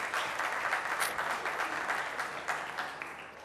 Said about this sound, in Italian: Accogliamo con un grande applauso Alfio Pesando di Alfio Più.